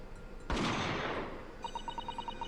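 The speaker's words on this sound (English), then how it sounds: "a gunshot rang out from over his shoulder" A single sharp gunshot effect from The Great Ace Attorney 2 cracks out and rings off with a decaying echo, followed by a quick run of rhythmic electronic beeps.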